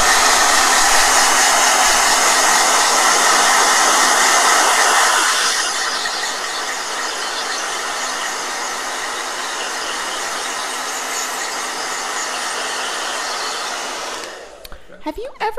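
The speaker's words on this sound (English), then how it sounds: "Blow dryer." A hair dryer blows steadily on a watercolor painting, a loud even rushing hiss that drops to a lower setting partway through and then cuts off near the end.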